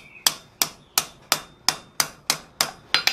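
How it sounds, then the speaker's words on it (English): Sharp metallic hammer blows on a steel ball being forged into a dinner bell clanger ring out one after another at a steady, even pace, about nine strikes, close and loud with brief ringing decay. "and hammer that off with back face hammer blows"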